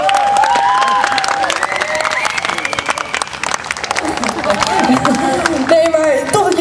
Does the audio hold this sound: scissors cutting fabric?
no